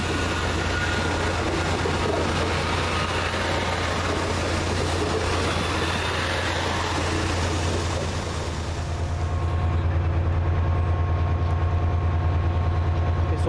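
A Chiltern Railways train rolls into London Marylebone station with a steady low diesel drone and rumble that holds throughout and deepens toward the end.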